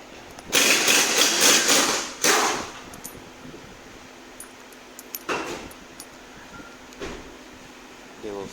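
Metallic hammer blows and clangs ring out in a dense cluster during front subframe removal on a Honda S2000, followed by a few sparser, quieter knocks over a steady workshop hum.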